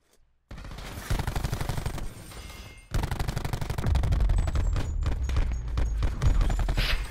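Gunfire in a Black Ops 4 Search and Destroy match: rapid automatic bursts, close and loud. After a short pause the shooting resumes with heavier, denser fire that runs to the end.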